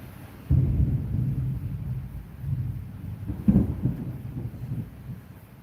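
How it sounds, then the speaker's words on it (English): Thunder rumbles low and deep with steady rain, first swelling suddenly and then rolling on, with a second louder crack midway. No one speaks. "You like the sound of rain and smell of rain."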